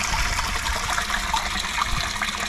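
Water from a small outdoor spring flows downhill in a steady, close, continuous gush and trickle with no voices.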